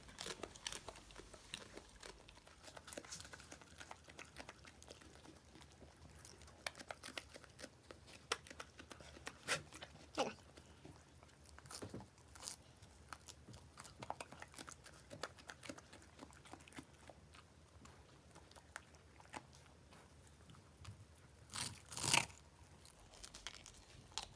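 A dog crunches and gnaws on a vegan chew bone, with irregular crackling bites and scraping, close and moderately loud, with a sharper burst near the end.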